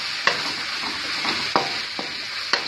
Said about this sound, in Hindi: तो हम भून रहे हैं,